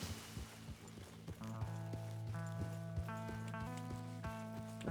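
Hooves clop in a steady rhythm under a droning musical backdrop, several horses moving at a trot in the video game Red Dead Redemption 2, fairly faint.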